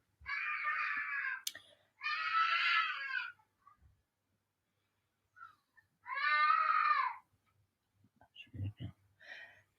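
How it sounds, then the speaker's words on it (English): A young child screams in three loud, sustained high-pitched bursts with quiet gaps between them, followed by a few shorter cries and small knocks indoors. "one of our children is screaming"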